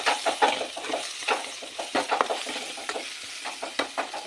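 Vegetables and mung beans sauté in a pan with soft sizzling and repeated scraping, stirring strokes at an uneven rhythm, close and fairly quiet, with no talk.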